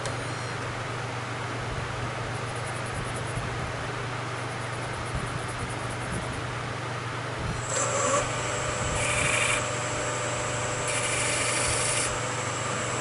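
Skew chisel cutting into a wooden table leg spinning on a lathe as it is shaped into a mallet, a continuous close rasping hiss over a steady motor hum, with brighter scraping cuts in the later part.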